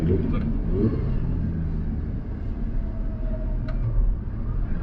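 A Lamborghini Gallardo engine rumbles low and steady from inside the car while cruising gently at about 2000 rpm, a deep continuous drone without revving.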